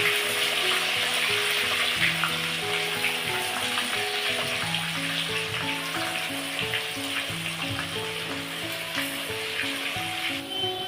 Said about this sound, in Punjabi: ਕਿੰਡੇ ਆਪਾਂ ਕੜਾਈ ਦੇ ਵਿੱਚ ਪਾ ਚੁੱਕੇ ਆ ਤੇ ਹੁਣ ਆਪਾਂ ਇਹਨਾਂ ਨੂੰ ਚੰਗੀ ਤਰ੍ਹਾਂ ਪੱਕਣ ਦੇਣਾ